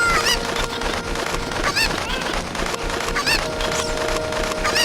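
Chicken clucking in the video game The Legend of Zelda: Ocarina of Time, several sharp squawks and clucks popping up over a busy, continuous game background.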